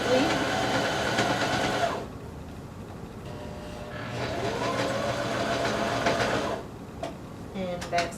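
A home sewing machine runs in steady mechanical bursts while stitching stretched elastic onto leggings, with a short pause in between and faint handling noises near the end.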